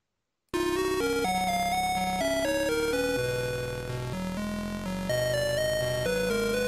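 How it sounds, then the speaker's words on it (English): Chiptune music from the Atari version of the Action Biker video game plays loud and alone, a bright square-wave melody stepping through quick notes over a buzzy bassline after a brief silence. "Why don't you fire up that Atari tune here?"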